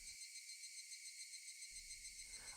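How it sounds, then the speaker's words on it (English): Cicadas in a summer village shrill loudly and continuously in a dense, steady high-pitched drone, while a low background hum drops out briefly and then returns. "Only the cry of the cicadas remained annoyingly loud."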